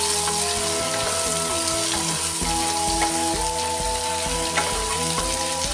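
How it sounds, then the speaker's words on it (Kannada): Cut ash gourd pieces frying in hot oil, a dense steady sizzle with occasional stirring scrapes and small clinks, heard close and alone. "ಇದನ್ನ ಎಣ್ಣೆಲೆ ಫ್ರೈ ಮಾಡ್ಕೋಬೇಕು."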